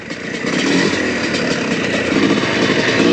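A motorcycle engine drones steadily while riding off-road, loud and close with slight revving swells and faint rattles throughout.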